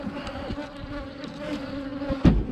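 A steady, close hum of buzzing honeybees at an open hive fills the clip, with a louder pass of a bee near the end.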